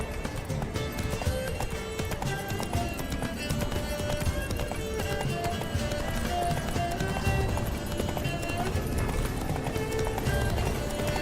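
The horse Roach gallops in The Witcher 3 video game, a continuous rapid clip-clop of hooves with occasional neighing, steady and dense under faint game music and ambience.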